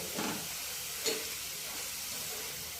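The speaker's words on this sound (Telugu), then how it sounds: "మీడియం ఫ్లేమ్లో పెట్టుకొని తిప్పుకుంటూ వేయించుకోవాలి" Potato snacks frying in oil over a medium flame, giving a steady close sizzle and hiss that runs through the whole stretch, with a couple of brief louder spits near the start.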